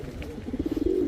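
Pigeons of an old Puran Dhaka Bangshal bloodline coo nearby in a short, rhythmic burst of low pulsing notes, clear and steady against a quiet background.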